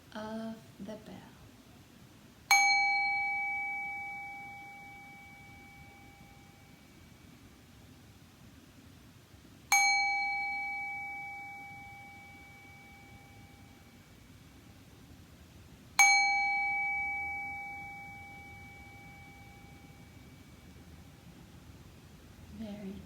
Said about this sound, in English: Just try to bring your mind gently back to the sound of the bell.